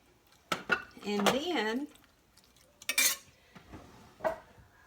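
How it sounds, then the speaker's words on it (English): A utensil scraping and clinking against a dish as loaded potato casserole ingredients are stirred, a few irregular knocks and scrapes around a short stretch of speech. "stir all this around"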